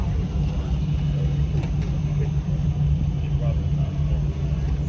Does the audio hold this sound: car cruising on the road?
yes